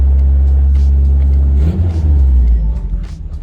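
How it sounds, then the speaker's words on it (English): A Toyota mini truck engine idles high with a sticking throttle, a loud, steady low rumble that swells briefly partway through, heard up close. "It's high, you can't see it, but it's high idling."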